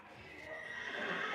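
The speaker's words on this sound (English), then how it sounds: "this is a horse that you can see her kind of rearing up." A horse neighs while rearing up, a single strained whinny that swells over about a second, fairly faint against a hissy background.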